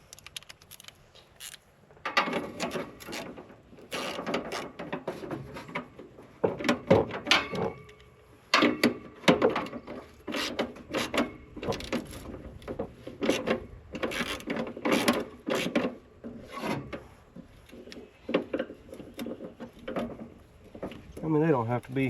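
A ratchet tightens a 12mm battery bolt on a Lincoln Eagle 10000 welder, giving bursts of quick clicking in irregular spells, close and moderately loud, with a few quiet gaps between strokes.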